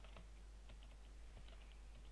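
Light, quick clicks of typing on a computer keyboard during Minecraft play, faint and irregular beneath a steady low background hum.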